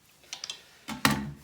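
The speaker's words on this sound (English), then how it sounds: "I'm just going to pop these off with this putty knife" A putty knife pries plastic bolt caps off a toilet seat, giving a few light ticks and taps followed by two sharper plastic pops close by, with no talking.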